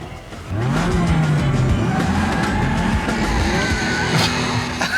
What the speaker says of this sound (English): Why are you doing a burnout?